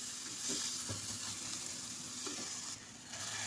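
Punjabi chicken masala gravy fries in a pan and is stirred, giving a steady close sizzle with soft scraping strokes throughout and no voices.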